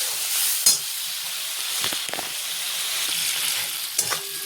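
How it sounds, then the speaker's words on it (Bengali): Tomatoes and spices sautéing in a pan for a fish curry, a loud continuous close-up sizzle and hiss with a few sharp spatula clacks and stirring scrapes. "আর দিচ্ছি টমেটো এগুলো ভালো করে কষা করি"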